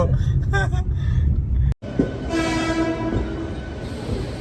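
A train rumbles loudly nearby and a long horn sounds partway through, with people talking over the noise.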